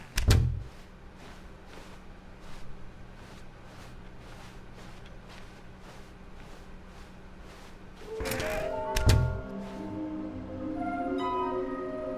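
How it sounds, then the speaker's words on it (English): A door in The Stanley Parable video game opens with a sharp thud, then a second heavy knock follows after a long stretch of quiet room tone with faint, steady footsteps. "When Stanley came to a set of 2 open doors, he entered the door on his left"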